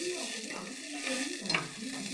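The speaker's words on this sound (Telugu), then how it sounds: "ఒక వెల్లుల్లి, ఉల్లిపాయ బాగా కట్ చేసుకొని పోపు గింజలు వేసుకొని కాస్త నూనె వేసుకొని ఇలా తిరగమాద పెట్టుకుంటే" Garlic, onion and tempering seeds frying in a little oil, a steady close sizzle with light stirring scrapes, no voices over it.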